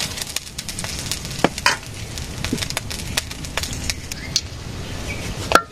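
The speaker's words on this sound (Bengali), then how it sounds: "শাপলা ভেজে নেব।" Water lily stems frying in a pan on a village kitchen stove, a dense steady crackle and sizzle with sharp pops and scraping stirs, close up throughout.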